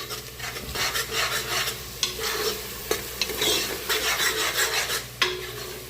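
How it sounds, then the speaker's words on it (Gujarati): Green garlic and chilli paste sauté in an aluminium pot, a dense continuous sizzle and hiss under repeated scraping and stirring strokes of a utensil against the metal, close and loud with no talking. "હવે આ લીલું લસણ અને મરચાંની પેસ્ટ નાખું છું"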